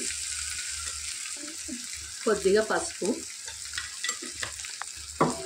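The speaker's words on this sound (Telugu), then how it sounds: "ఈ ఆయిల్లో బాగా ఫ్రై అవ్వనియాలి అల్లం వెల్లుల్లి పేస్ట్ ఇంకా పసుపుని" Ginger garlic paste and turmeric frying in hot oil for mint chutney, a steady broadband sizzle with a few louder stirring scrapes and clatters in the middle and near the end.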